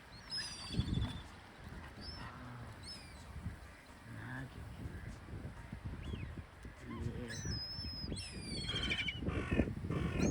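Crows caw in alarm outdoors amid strong wind, repeated harsh calls from several birds, some near and some farther off, over constant wind rumble, with a faint voice talking quietly in the background.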